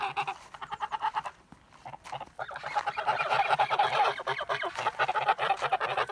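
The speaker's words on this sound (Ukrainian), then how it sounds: "гуси пасуться" Kholmogory geese honk repeatedly while grazing, a loose chorus of several birds nearby, growing louder and denser in the second half with overlapping calls.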